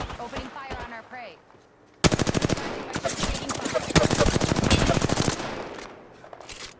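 Rapid automatic gunfire in a video game, a long loud burst of evenly spaced shots after a stretch of quieter game sound, with a voice talking faintly early on.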